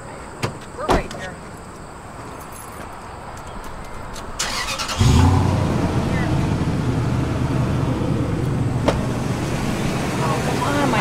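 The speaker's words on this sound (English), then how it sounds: "Turn the car on" A car engine fires up about halfway through and settles into a steady idle, following a couple of door thumps and light handling noises, with people talking nearby during a dog rescue.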